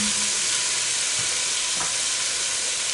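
Ingredients for stewed chicken sauté in a pot, a steady close sizzle with a couple of soft utensil scrapes, no voices.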